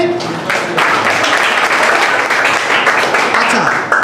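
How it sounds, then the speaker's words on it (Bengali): Schoolchildren at a classroom drawing competition give a classmate a round of applause, a dense, steady clapping sound that fills the room, mixed with voices. "ওর জন্য একটা হাততালি।"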